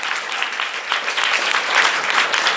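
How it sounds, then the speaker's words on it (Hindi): Church congregation applauding loudly at a Hindi-language worship service, a steady dense wash of many hands clapping throughout with no pauses. "जोरदार ताली बजाए।"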